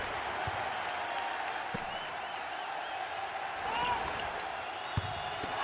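Student section crowd at a college basketball video game match, a moderate steady roar of cheering and clapping in the background with occasional ball bounces and sneaker squeaks.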